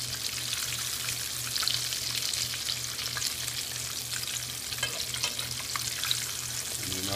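Chicken pieces pan frying in oil give a steady, dense sizzle with scattered pops and crackles, constant and fairly close, with a low periodic hum running underneath and no voices.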